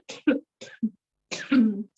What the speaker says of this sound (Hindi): कोविड के कारण थोड़ी बहुत खांसी आ रही है